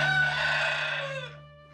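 A single rooster crows a full, loud cock-a-doodle-doo close by, the call held for about a second before tapering off into a quiet farmyard background with no voices.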